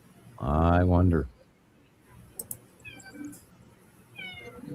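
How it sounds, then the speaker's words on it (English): A house cat gives one loud, close meow, followed by quieter scattered chirps and faint squeaky sounds, with no voices over the call. "I hear a meow. That's my pussy cat."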